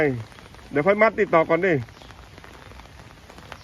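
Steady rain patters in the background, a constant hiss beneath a short burst of nearby talking that stops partway through, leaving the rain alone.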